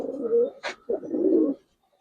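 Giribaz pigeons give two close, soft cooing calls separated by a brief wing flutter, the low throaty coos ending abruptly into quiet.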